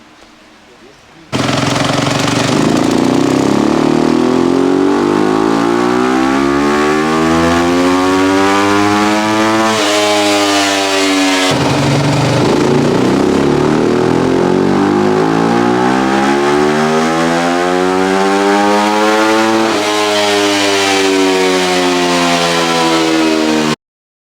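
A custom-built Yamaha YZ250F endurocross bike engine run on a dyno, loud and close, sweeping up through the revs in long rising pulls, dropping back and climbing again in repeated runs.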